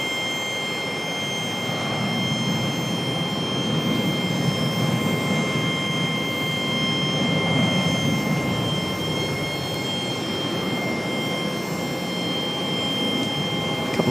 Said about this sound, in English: Couple of back-to-back 737 departures